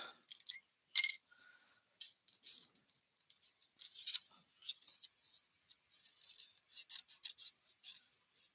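Crisp snipping and rasping cuts from scissors cutting card stock for card making, irregular bursts close by with short pauses between them, no talking.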